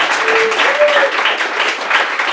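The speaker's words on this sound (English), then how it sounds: "Please, everyone, give a round of applause for Britain's next Prime Minister" Comedy club audience applauding in a steady, dense wash of clapping that holds at an even loudness throughout, with a few faint voices and whistles rising above the clapping.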